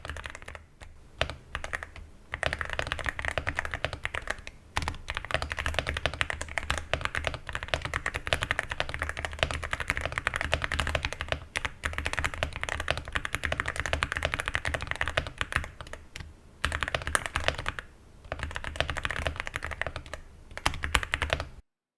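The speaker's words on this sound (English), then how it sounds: "The typing sounds is just so satisfyingly clicky, noisy" Clicky mechanical keys being typed rapidly and continuously, with a few short pauses between bursts, close and crisp.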